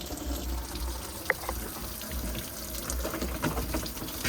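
Hot coolant drains from a Freightliner Cascadia with a DD13/DD15 engine into a pan, making a steady, soft trickling and splashing of liquid that runs throughout and stays fairly faint, with no talking.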